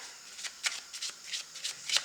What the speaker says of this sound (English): We are going to shuffle the deck